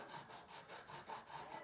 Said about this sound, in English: I've adhered a piece of 220 sandpaper, and I am lightly,